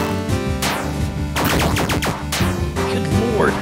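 Rapid bursts of gunfire from the action game Oniken, loud and dense with repeated sharp shots and overlapping electronic game sounds and music running throughout.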